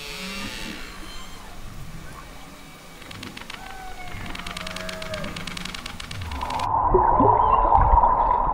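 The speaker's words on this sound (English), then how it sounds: "You could hear the whales just with your head underwater" Humpback whale calls recorded underwater by an action camera, a series of rising and falling moans and whistles that carry over a gurgling water wash before a louder churning splash near the end.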